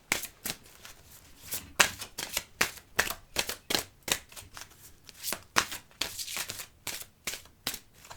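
Oracle cards being shuffled and drawn by hand: a rapid run of crisp, close riffling flicks and snaps repeating steadily for several seconds, with no voice over it.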